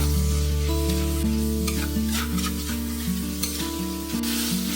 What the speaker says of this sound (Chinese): 拌炒一下。